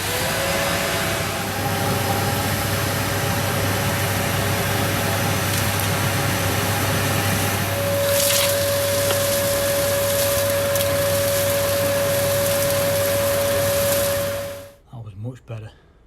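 A vacuum cleaner fitted with a cyclone dust extractor, collecting sawdust in a garage workshop, drones loudly and steadily for about fifteen seconds with a constant whine, then cuts off abruptly, leaving a few faint knocks.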